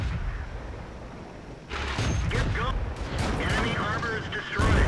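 Tank cannon fire in World of Tanks, with booming blasts and crackling impacts rising after a quieter opening while someone talks over the battle noise.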